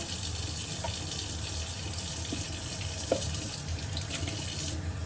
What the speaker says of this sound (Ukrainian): Тепер я набираю водичку.